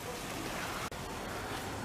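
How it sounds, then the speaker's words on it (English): Steady hiss of rain falling beside a hotel pool, an even wash of drops with a momentary dropout partway through, no talk heard. "Oh yeah, you can see all the rain."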